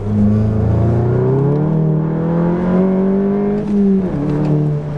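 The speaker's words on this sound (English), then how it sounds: "So this is a second gear windows up pull." A car engine, a 1.8 or 2.0 on a VW MK7/MQB with an APR intake, pulls hard in second gear, its droning pitch rising steadily, heard loud and muffled from inside the cabin with windows closed.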